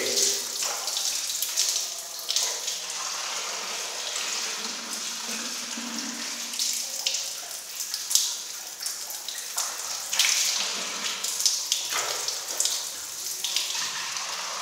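Cold water running steadily from a tap, a continuous close hiss and splash with slight surges, heard alone without talk throughout.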